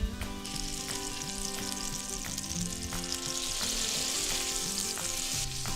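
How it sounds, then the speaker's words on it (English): Butter melting in a pan for crispy rice treats sizzles and crackles steadily up close, accompanied by sustained tonal background music, with no talking. "Butter going into the pan."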